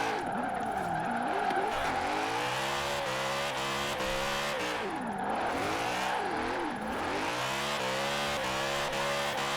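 A BMW E46 M3 GTR drift build in Forza Horizon 4 slides through a corner, its high-revving engine rising and falling steadily over continuous tire squeal, loud and close, with no talk.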